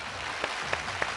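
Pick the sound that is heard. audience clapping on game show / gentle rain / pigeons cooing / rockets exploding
audience clapping on game show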